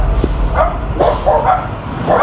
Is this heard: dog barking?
yes